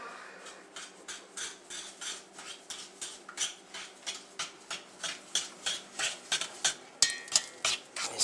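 A spoon scrapes and clinks rhythmically against a pot while the haystack cookie mixture is stirred, steady repeated strokes close up, with no talking.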